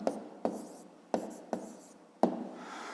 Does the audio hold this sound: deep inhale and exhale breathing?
no